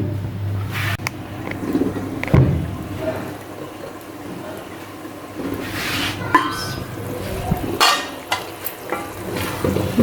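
Chicken pieces going into a pan of masala for a home-style chicken gravy, with stirring, sizzling frying and occasional clinks of a spoon against the pot, steady and close throughout.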